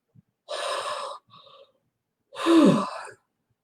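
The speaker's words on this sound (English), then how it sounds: "all of a sudden I feel like wow, I really have to yawn" A person yawns aloud twice, a long breathy exhale-like vocal sound, then a short soft breath, then a second louder, fuller yawn with a falling voiced tone, close and alone without talk.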